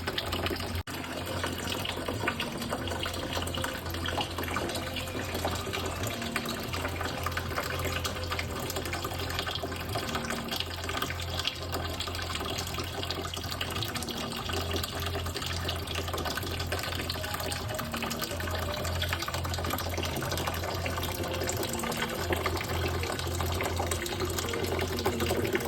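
Liquid from a still running a mash drips steadily into a collection jar, a continuous close watery trickle with a low hum running underneath throughout, no voices.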